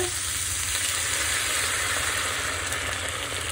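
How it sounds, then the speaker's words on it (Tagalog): Water goes into a hot pan of pinakbet with fresh shrimp, giving a close, steady hissing sizzle that holds evenly throughout without speech. "So, ayan guys, mag-add tayo ng water."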